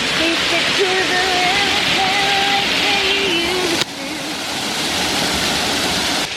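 A loud, steady broadband rush of falling water fills the whole stretch, with faint voices singing or talking faintly beneath it.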